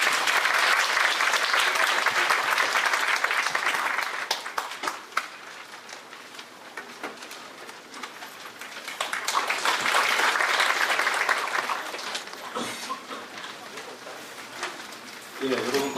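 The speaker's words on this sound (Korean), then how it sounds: "박수로 맞이해주시면 감사하겠습니다." An audience at a Korea University law school admissions briefing applauds to welcome the dean: loud, dense clapping that fades after a few seconds, then swells again before tapering off.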